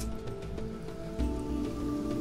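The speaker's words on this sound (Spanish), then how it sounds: "Lluvia." Rain falls in the survival video game Sheltered, a steady patter of drops on a surface over a constant hum, with a slight swell in loudness about halfway through and no voices.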